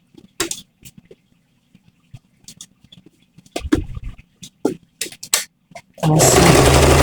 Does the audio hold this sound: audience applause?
no